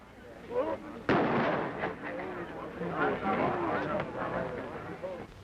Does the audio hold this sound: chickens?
no